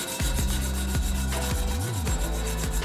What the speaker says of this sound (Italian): dobbiamo uniformare la curvatura per renderla gradevole alla vista e al tatto, una mano con della carta vetrata